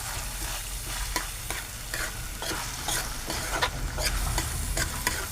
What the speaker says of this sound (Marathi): कांदा तांबूस होईपर्यंत आपण परतून घेऊ.